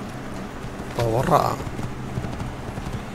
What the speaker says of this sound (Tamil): ஏய் குதிரை எடு